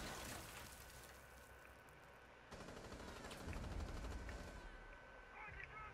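Rapid automatic gunfire in Rainbow Six Siege, a dense crackling stream of shots that swells louder midway, with game ambience and some voices underneath.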